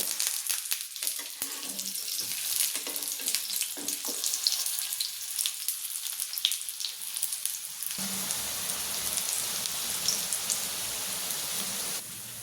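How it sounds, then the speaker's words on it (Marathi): Paneer, spinach and pea cutlets fry in a pan over a low gas flame, giving a steady, fine crackling sizzle up close. The sizzle continues throughout, with a brief shift in texture partway through and no talking. "आपण याला पाच मिनटं बारीक गॅसवर फ्राय होऊ द्यायचे"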